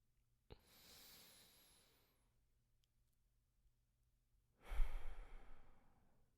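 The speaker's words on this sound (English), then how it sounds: "breathing in slow to the diaphragm and breathing out slow" Slow, deep breathing: a soft drawn-out inhale, a pause of silence, then a louder, fuller exhale, close up with no talking.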